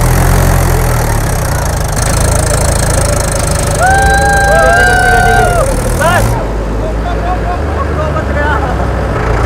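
A tractor engine idles loud and close in an open field, a steady low rumble with a knocking undertone throughout, while a brief whistling tone rises and falls midway.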